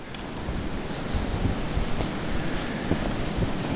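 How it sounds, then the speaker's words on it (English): Strong blizzard wind gusts of around 35 to 40 mph roar as a loud, continuous broadband rush with surging buffets, close to the microphone and with no speech. "40 mile an hour wind gusts"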